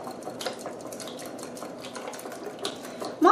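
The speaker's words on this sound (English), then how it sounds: "I'm just going to mix this all together until the eggs are all broken up and it's all incorporated" Eggs being mixed in a bowl with basil, salt and cheese: steady light clinks and scraping of a utensil against the bowl, a soft continuous rhythm with a louder knock at the end, no talking.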